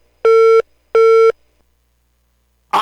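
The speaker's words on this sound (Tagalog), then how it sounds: "Na utod ang linya sang telepono with the Councilor Calao Puentevel" Two loud, steady telephone busy-signal tones, each about a third of a second long with a matching gap, sound on a line that has just been cut off during a radio hotline call, followed by a brief burst of noise at the end.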